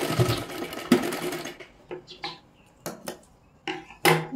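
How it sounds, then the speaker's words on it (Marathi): A sewing machine stitching a boat neck katori blouse runs in a steady close whirr for about a second and a half, then gives several short separate bursts of stitching with quiet gaps between them. "2 वेळा शिलाई मारून घ्या तिथे."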